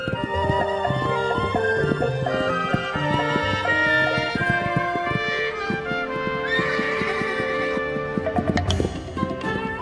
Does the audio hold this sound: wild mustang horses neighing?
yes